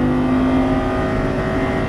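A Lamborghini Superleggera on a racetrack accelerates at full throttle with a loud, steady engine roar rising slightly in pitch, heard close from inside the car.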